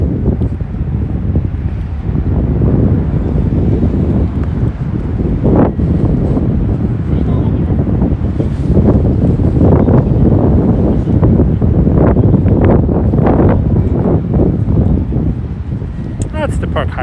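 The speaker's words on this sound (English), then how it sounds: "A bit windy here." Wind buffets the microphone on a sunny Shinjuku street in Tokyo, a loud, steady low rumble of gusts running throughout with no talk over it.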